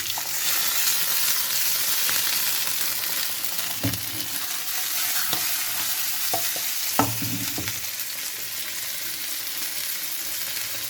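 An Eco Plus beef steak fries beside caramelised onions in a pan for a budget chef-style burger, giving a steady, loud broadband sizzle throughout, broken by a few sharp scrapes and stirring thumps near the pan.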